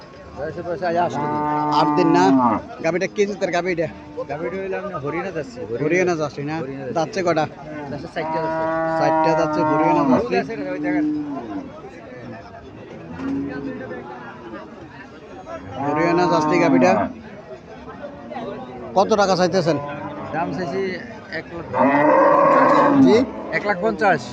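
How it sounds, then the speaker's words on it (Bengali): A Haryana cow kept with a Sahiwal calf moos repeatedly, with loud, long, drawn-out calls spaced through the scene while people talk nearby between and over them. "এখানে একটা গাভী দেখা যাইতেছে"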